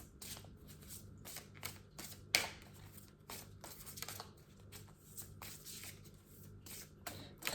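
Oracle deck cards being shuffled by hand at a tarot-style reading, a steady run of soft riffling slaps and brushes with one sharper snap, close and fairly quiet, no voices.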